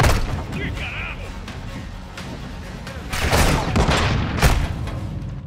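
Loud battlefield din from a Call of Duty Modern Warfare II campaign mission: bursts of gunfire and heavy grenade blasts, with a big surge of explosions in the second half, while a voice talks over the chaos.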